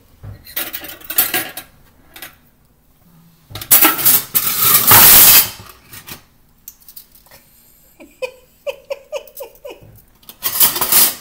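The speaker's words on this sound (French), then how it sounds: "On va fouetter le tout." Whisking a redcurrant jelly mixture for a duck dish in a bowl, quick bursts of metal rattling against the bowl in loud uneven spurts, separated by short quiet gaps.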